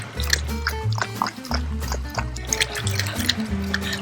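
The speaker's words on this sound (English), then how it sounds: "He drinks so much water." A homestead animal drinking water, wet slurping and lapping in repeated gulps with splashes and trickles, close and fairly loud.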